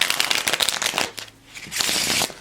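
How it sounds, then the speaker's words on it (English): A deck of playing cards is riffle shuffled up close: a burst of rapid fluttering card riffles, a short pause, then a second dense riffle. "Now we want to riffle shuffle like this."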